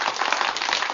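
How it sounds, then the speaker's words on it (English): Applause from a studio audience on a talk show, a steady dense patter of many hands clapping for about a second with no voices over it. "We have clapping on this show."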